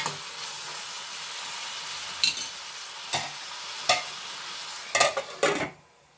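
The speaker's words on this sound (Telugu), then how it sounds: "కలుపుకొని మూత పెట్టుకొని ఒక వన్ మినిట్ అలా మాగనివ్వాలి" A steady sizzle under egg curry cooking in a pan, broken by a handful of sharp spoon-against-pan stirring knocks, then cutting off abruptly near the end as a lid goes on.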